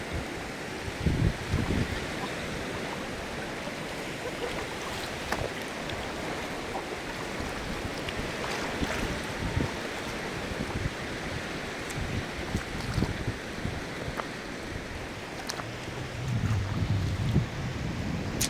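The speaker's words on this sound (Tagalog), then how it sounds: "malalakas yung alon" Continuous roar of rough surf and wind blowing across the microphone, steady and loud throughout with occasional gusts.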